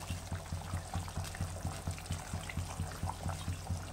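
A thin fish curry of foli fish with potatoes and green chillies bubbles in the pot, making steady rhythmic low blips and plops close by, with no voices.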